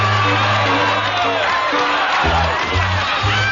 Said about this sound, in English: listen to that applause, Shooter